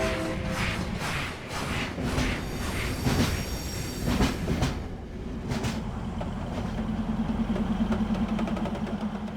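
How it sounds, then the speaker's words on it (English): A train rolls slowly through the Maeklong Railway Market in Thailand, close and steady, with rumbling wheels, rhythmic clacks, a squeal of wheels on the rails and a horn-like tone near the end. "a train runs through the Maeklong Railway Market"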